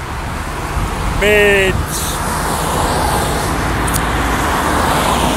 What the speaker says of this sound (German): es ist natürlich die Sukhumvit Road, immer voll, immer Autos